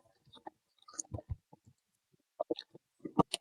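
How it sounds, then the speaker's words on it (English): Close-up crinkling and crackling of paper packaging in short, irregular bursts separated by quiet pauses. "Again, I'm sorry for the paper noise."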